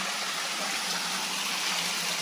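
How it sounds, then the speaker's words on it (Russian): A tiny waterfall spills into a stream in a gorge on Tenerife, a steady, even hiss of flowing water, moderately close and uninterrupted, with no voices. "Вот такой тут водопадик протекает."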